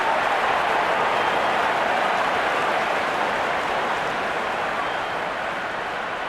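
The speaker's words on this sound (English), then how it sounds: "Wonderful 50 and the crowd applauds" Crowd applause in the Real Cricket 22 game during an India vs Pakistan T20 match after a batsman reaches fifty, a steady, dense wash of clapping and cheering that holds at an even level throughout, with no voices over it.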